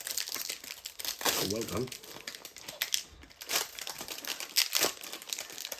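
Foil wrappers of Disney Lorcana Into the Inklands booster packs crinkle and tear as they are peeled open by hand, a close, busy rustling that runs throughout while a voice briefly speaks.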